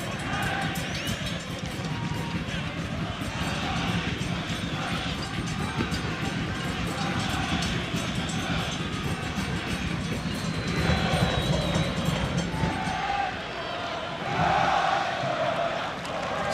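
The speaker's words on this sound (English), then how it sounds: "Sellout crowd here at Stewart Stadium on Long Island." Sellout stadium crowd at a New York Cosmos versus New York City FC U.S. Open Cup soccer match at Stewart Stadium on Long Island, a dense steady roar of many voices with swells of cheering and chanting.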